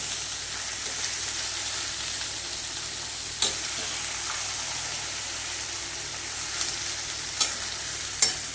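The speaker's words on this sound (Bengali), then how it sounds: "এবার বাঁধাকপিটা দিয়ে ভালো করে কষে নেবে" Cabbage being stir-fried in a pan for a cabbage dalna, a steady close sizzle and hiss running throughout with a few sharp clicks of a utensil scraping and tossing the leaves.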